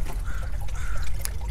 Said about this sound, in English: I'll water it, make sure it's water pretty good